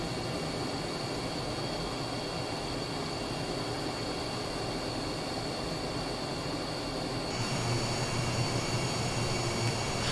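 An airliner flying in Microsoft Flight Simulator on approach for an ILS landing, heard as a steady, even engine drone that thickens slightly near the end.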